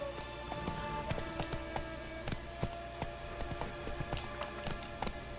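Roach, the horse in The Witcher 3, gallops along with rhythmic, fairly quiet hoofbeats over a low game soundtrack drone and faint tonal background.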